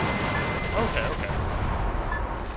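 Sustained machine gun fire in the video game Metal Wolf Chaos, a dense rumbling stream of rapid shots with heavy low booms, loud throughout, with a voice speaking briefly over it.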